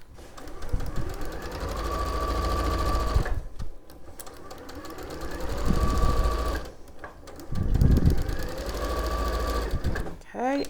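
Sewing machine stitching the lining of trousers in steady sustained runs broken by brief stops, with people talking throughout.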